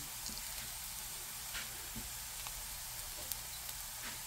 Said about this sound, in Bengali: ডালটা বাগার দিয়ে দেবো।